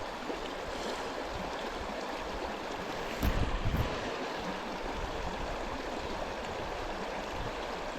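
Steady wind buffeting outdoors beside a Yellowstone pond where brook trout are being caught, a loud, close, broadband rush with a brief stronger gust midway.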